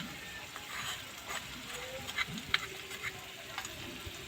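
Spice paste with salted sour yogurt cooking in a pan for a Bengali vegetarian mixed vegetable dish, a faint steady sizzle with soft stirring scrapes and small clicks, quiet and close.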